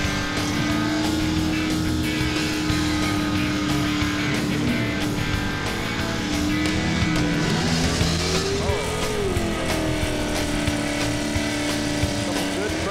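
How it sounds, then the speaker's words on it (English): Drag racing cars roar through burnouts, a loud sustained engine howl with rising and falling revs and a tire screech mixed in, while an announcer talks over the din. "Couple good burnouts there."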